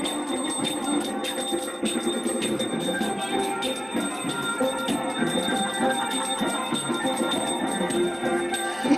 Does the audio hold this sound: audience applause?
no